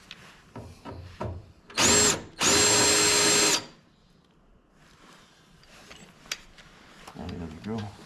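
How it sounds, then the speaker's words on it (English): A bigger power drill bores into the top of a yellow M38A1 jeep during a top install, in two loud bursts, one short and one about a second long, with quieter handling noises and voices around them. "Then you need the bigger drill."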